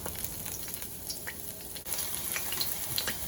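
Garlic sizzling and browning in oil in a hot wok, a steady close frying hiss throughout with a brief dip midway, no voices.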